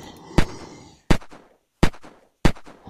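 Four sharp, loud gunshots fire at uneven intervals in the video game Unturned, each a hard crack with a short decaying tail and near silence between them.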